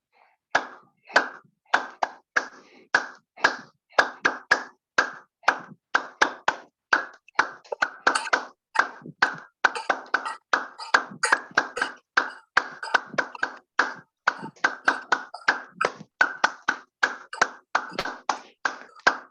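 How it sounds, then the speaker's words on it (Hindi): A group claps hands in a steady, brisk rhythm during a morning yoga session held over Zoom. The claps are sharp and evenly spaced, and they continue for the whole stretch with no talking. "ताली वादन कीजिए।"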